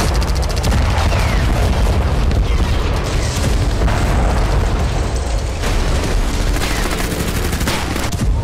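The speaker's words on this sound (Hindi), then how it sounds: "गाजा पर इतनी तीव्रता के विस्फोट हो रहे हैं कि आसपास के इलाकों में भूकंप जैसे झटके आ रहे हैं" Heavy explosions from a bombardment of Gaza roll on without pause, loud booming blasts layered with crackling bursts like rapid gunfire.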